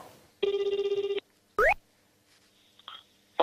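A telephone rings in a quiet room: a steady trilling electronic ring burst, then a short rising chirp, followed by faint beeps, with no talk over it.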